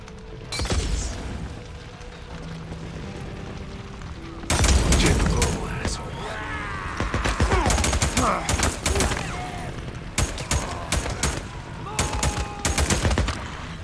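Dense gunfire from a firefight in the video game Days Gone crackles in rapid bursts and volleys, loud and close, with bursts of automatic fire separated by short lulls and a voice speaking over parts of it.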